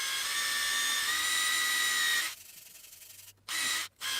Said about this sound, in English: wire brushing next to me